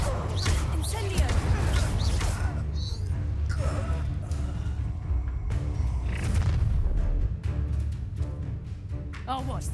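An Incendio fire spell bursts during a fight in Hogwarts Legacy, a loud booming blast with rumbling low-end and whooshing flame. It plays over continuous battle noise, and character voices shout through it.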